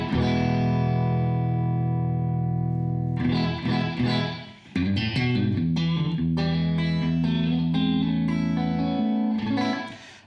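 An electric guitar runs through a Mooer Black Truck pedal with the compressor off, playing a long held distorted chord followed by a busier run of strummed and picked chords with a brief dip midway, loud and alone.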